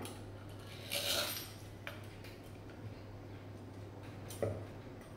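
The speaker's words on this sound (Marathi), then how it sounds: "तुम्हाला किती छोट्या मोठ्या पाहिजे त्या साईजच्या कापण्या आपण कापून घेऊया" A knife cuts wheat-flour and jaggery dough into small diamond-shaped pieces, making faint, sparse clinks and taps against a board in a quiet kitchen.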